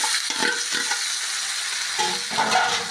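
Cooked tapioca being stirred with coconut milk in a pan, a continuous close sizzling hiss with soft scraping strokes of the spoon coming and going.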